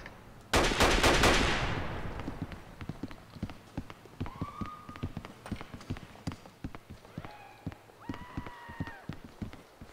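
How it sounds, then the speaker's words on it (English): Rapid, evenly spaced gunshots echo inside a building in the GTA LCPDFR police mod, following a loud opening blast. A voice speaks over the shots. "Good shots fired in the building still."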